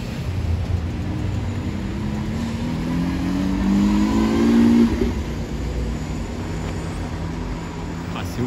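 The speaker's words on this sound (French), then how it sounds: "regardez, la SVJ s'en va." A Lamborghini Aventador SVJ accelerating away along a Paris street, its engine note climbing steadily for a few seconds and then fading over a constant bed of city traffic noise.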